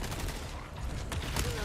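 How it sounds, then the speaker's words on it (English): Gunfire aimed at El Gigante in the Resident Evil 4 remake video game, a quick volley of shots over dense game noise with a few faint voice fragments. "Let's take some shots at this guy."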